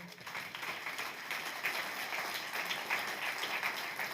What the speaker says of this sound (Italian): Possiamo fare un applauso